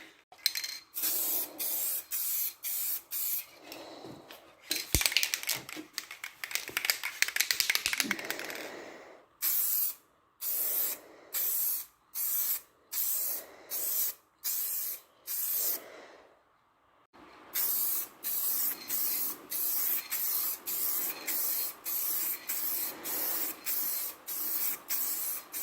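A rattle can sprays colour coat onto a car in a long run of short hissing bursts, close and steady, some blasts longer near the start and a regular rhythm of quick pulses later.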